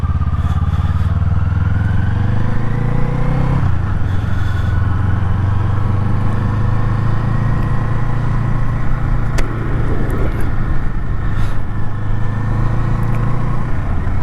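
A Kawasaki Eliminator motorcycle cruises along a road with a steady engine drone that shifts pitch once as it changes speed, then holds a constant loud hum with some wind and road noise.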